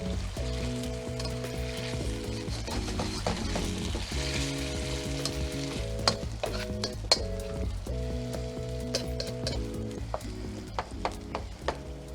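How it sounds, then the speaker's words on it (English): Ground beef bulgogi with vegetables browning in a hot pan sizzles steadily, with sharp clinks and scrapes of stirring scattered throughout, all under a looping music track. "we want to brown this. It's going to soften the vegetables"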